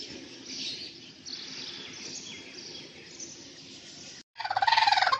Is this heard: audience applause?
no